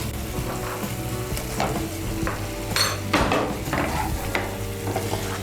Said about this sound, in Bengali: আলুগুলোকে মশলার সঙ্গে ভালো করে মিশিয়ে নেব।